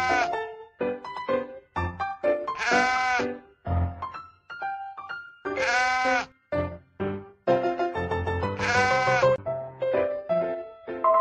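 Sheep bleating repeatedly, several drawn-out wavering bleats in a row, loud and close, with short gaps between calls.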